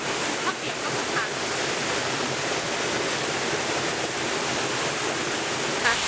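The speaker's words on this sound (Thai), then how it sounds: "ตอนนี้ฝนเริ่มตกหนักแล้วนะคะ" Heavy rain pours down at a jungle waterfall, a dense, constant hiss and rush of water filling the whole stretch at steady volume, with a voice faintly present underneath.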